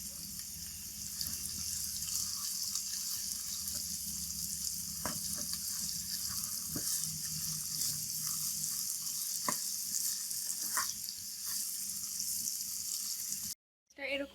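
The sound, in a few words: frying onion, green chili and cumin in pan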